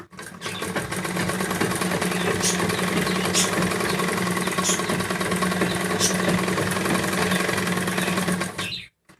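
Sewing machine stitching a lining blouse, a dense steady motor whir with rapid needle chatter running continuously and close up, a few faint clicks on top, stopping abruptly at the end.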